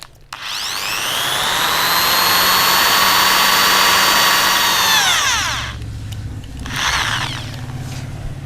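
A power drill whines up to a high steady pitch and holds it for several seconds during work on a Honda Supra motorcycle restoration, then winds down and gives a couple of shorter revs, loud and close with no talking.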